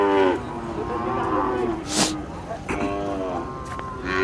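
A Khillar bull at a cattle market in Sangola gives several long, deep moos in a row, close and loud, with a brief burst of clatter in between.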